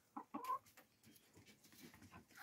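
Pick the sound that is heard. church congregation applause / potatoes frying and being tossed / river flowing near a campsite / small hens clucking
small hens clucking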